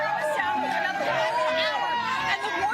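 An outdoor crowd mills around at a live TV street event, making a dense, steady hubbub of overlapping voices and chatter close by, with no single sound standing out.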